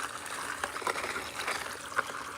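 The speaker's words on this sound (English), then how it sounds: "And I even got this cool little creek in the backyard" A small backyard creek trickles and burbles steadily, with a few soft splashy accents rising above the continuous flow of water.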